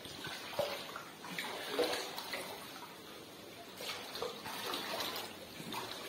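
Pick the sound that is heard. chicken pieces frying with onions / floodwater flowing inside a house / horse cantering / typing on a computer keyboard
floodwater flowing inside a house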